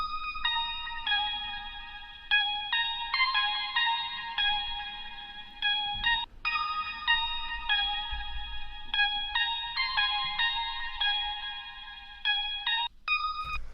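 Plucky synth lead from a Pluggnb-style FL Studio beat, playing a bright, choppy note pattern with short gaps, loud and alone over a faint low bed, with echo and chorus.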